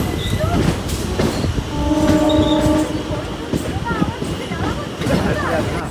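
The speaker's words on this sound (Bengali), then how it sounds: "বারাইপুরে আজকে চার নম্বর প্ল্যাটফর্মে ট্রেনটা দিয়েছে" A train rumbles at Baruipur station platform with a clattering, busy platform ambience, and long steady horn tones sound midway, with people talking nearby.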